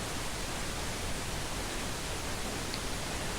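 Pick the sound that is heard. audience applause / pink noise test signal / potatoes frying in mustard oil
pink noise test signal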